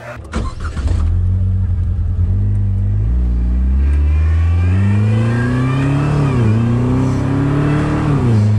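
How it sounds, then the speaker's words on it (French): Vanderhall car driving close by, its engine revving loudly and climbing steadily in pitch through several gear changes after a short start, continuous throughout. "Maintenant on va voir Cole en train de conduire la Vanderhul"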